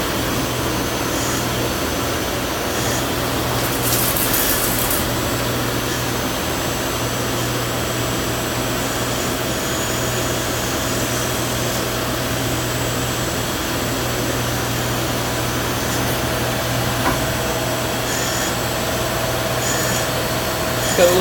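A Yang metal lathe runs steadily with a little coolant flowing, giving a continuous close mechanical hum and whir with a faint hiss that holds at an even level, with no talking.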